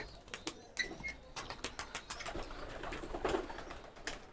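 Racing pigeons being released outdoors, with birdlike calls and scattered soft coos over steady outdoor background noise, plus a few brief fluttering bursts, moderately faint and with no talk.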